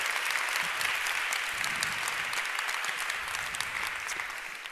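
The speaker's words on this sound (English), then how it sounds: "I think that merits a warm round of applause for our dear partners." An audience at a women-in-tech event gives sustained, dense applause that holds steady and then fades slightly toward the end.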